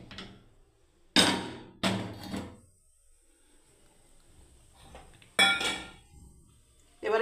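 A metal wok is set down on a stove in a home kitchen, giving a few sharp close clanks and clatters separated by quiet pauses.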